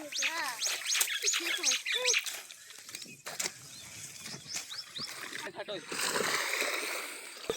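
People bathe and splash in a village canal, with irregular splashes and water churning, mixed with shouting and calling voices and bird-like cries throughout, fairly close.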